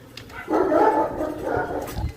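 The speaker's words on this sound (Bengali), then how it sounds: "এখানে হচ্ছে আমাদের কুকুরদের আওয়াজ" A dog barks and yips a few times at moderate distance, the calls blurring together over quiet outdoor background in a neighbourhood in Gariahat around 9:15 in the morning.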